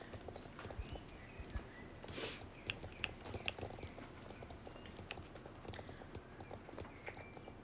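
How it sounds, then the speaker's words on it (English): Horse hooves clip-clop in a steady trotting rhythm during a test ride in the Star Stable video game, close and continuous over a soft ambient background. "Giving the horse a test ride, truly."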